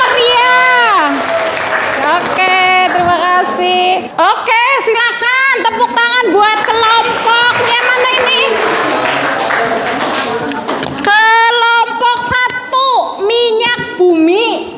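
A classroom audience claps after a student group presentation, the applause mixed with loud children's voices and cheering throughout.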